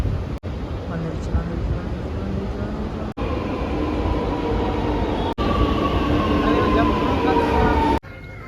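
A Chennai metro train rumbles steadily as it pulls into the airport station, with a low continuous hum and rising tonal whine, brief dropouts breaking the sound.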